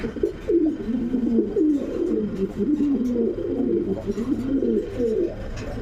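Pigeons coo steadily in overlapping, throaty bursts, with many birds audible together at close range. They are fancy pigeons, including black racers and red Sirazi Lahori, kept at a market or loft.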